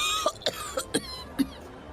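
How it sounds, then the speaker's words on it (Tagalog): A woman coughs in a quick series of five short, sharp, dry bursts, close and clear against a quiet room. "napapadalas na ata ang pag-ubo mo na yan ah."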